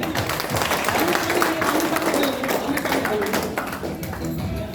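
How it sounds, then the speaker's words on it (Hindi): Teacher workshop participants in a theatre-in-education training session clap together in a dense burst of applause, close and lively, with voices chattering over the clapping throughout. "बहुत बढ़िया, तो ताली अपने लिए।"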